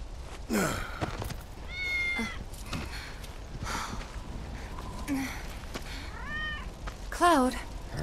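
A cat meows a few times in the video game Final Fantasy VII Remake, short rising and falling cries spread across the clip over ambient game sound, with faint voices.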